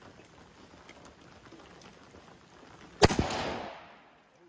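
A big bore airgun fitted with a custom .458 barrel fires a copper bullet, a single sharp loud report that decays into a rushing tail over about a second, following a quiet outdoor stretch with no talking.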